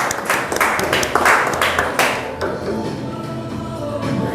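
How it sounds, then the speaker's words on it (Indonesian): Audience at an Indonesian property customer gathering claps in a scattered, uneven burst of separate hand claps that soon fades into a quieter room with low background sound. "Tepuk tangan Bapak Ibu."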